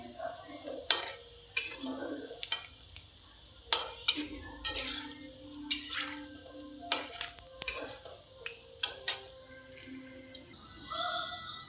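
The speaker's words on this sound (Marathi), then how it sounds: "असा रंग येईपर्यंत त्याला मीडियम फ्लेमवर तळून घ्यायचं आहे" Koftas fry in oil over a medium flame, a soft low sizzle punctuated by repeated sharp clinks and scrapes of a utensil against the pan at irregular intervals, close by and with no voices.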